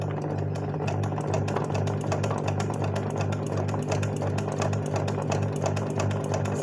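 A sewing machine embroiders lines with a zigzag stitch, producing a steady, close rapid needle clatter over a low motor hum, with no voices.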